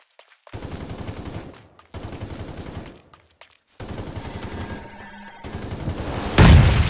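In Super Mecha Champions, rapid bursts of automatic gunfire in several long volleys separated by short pauses, loud and close, ending with a heavier boom.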